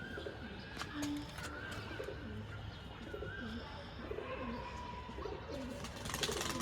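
Pigeons coo softly and repeatedly in a loft of old-generation Kalshila tumbler pigeons, low rolling coos overlapping amid faint chirps and steady background noise.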